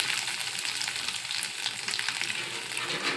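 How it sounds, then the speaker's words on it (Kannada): Paneer fries in oil in a kadai with a continuous, dense crackling sizzle that stays even and fairly loud for the whole stretch, with no voices. "ಪನ್ನೀರೆಲ್ಲ ಫ್ರೈ ಮಾಡ್ಕೋಬೇಕ್ರಿ ಅದನ್ನು."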